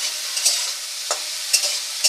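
Prawns fry in a pan of hot oil, giving a close, steady sizzle with a few sharper spatters and stirring scrapes at irregular moments.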